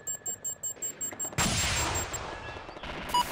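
Video game gunfire in a shooter, a rhythmic run of sharp repeated shots followed by a loud sustained burst of fusillade with beeping electronic tones over the top, close and loud.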